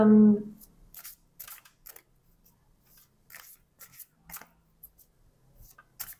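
Oracle cards of a mystical healing deck are handled up close, producing a series of soft, brief crisp rustles and taps scattered across the quiet, after a short voiced sound at the start.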